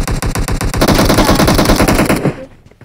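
In the mobile battle royale PUBG Mobile, loud automatic gunfire rattles off in a rapid sustained burst, then cuts off abruptly.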